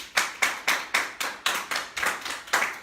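An audience claps in steady unison, about eleven sharp, evenly spaced claps in a row, loud and close, with no clear cheering or voices on top.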